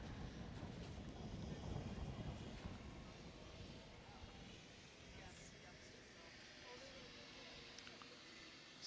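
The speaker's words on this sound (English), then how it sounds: "There's that wind, you can hear it." Wind gusts across the microphone at an open cricket ground on a sunny day, a steady broad rumble running throughout with light talk faintly underneath.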